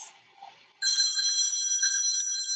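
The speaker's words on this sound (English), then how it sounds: "I'm sorry for the phone ringing if you can hear it." Telephone ringing loudly and steadily during an indoor yoga class, an electronic tone that starts abruptly after a second of near silence.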